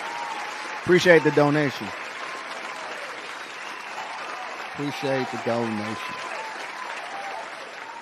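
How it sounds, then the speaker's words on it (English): A looping soundboard applause effect plays steadily under a voice, which speaks twice over the continuous canned clapping and crowd noise. "And it's a long clap."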